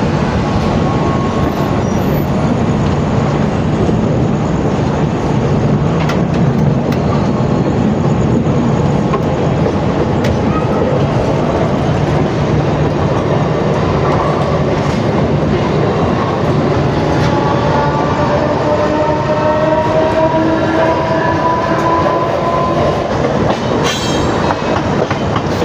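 The 12701 Mumbai CSMT–Hyderabad Hussain Sagar Express running at speed, heard from inside with a loud, steady rumble, rhythmic clickety-clack of wheels over rail joints and occasional faint squeals throughout.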